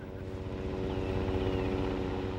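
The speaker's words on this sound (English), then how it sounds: "a helicopter swoops in low over what is called the National Institute for Truth Verification" A helicopter swoops in low over the National Institute for Truth Verification in West Palm Beach, Florida, its loud, steady rotor and engine roar filling the whole stretch with a constant throbbing drone.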